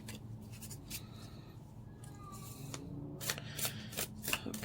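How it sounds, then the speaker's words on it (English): Tarot cards are shuffled and drawn by hand in a quiet room: soft riffling and sliding, then a run of crisp, close card flicks and snaps that grow busier toward the end. "I'll basically keep drawing cards until I feel the message is complete"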